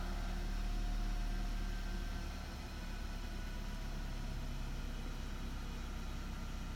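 A 2010 Ford Focus engine idles steadily just after a canister purge valve repair, a constant low droning hum close by with no voices.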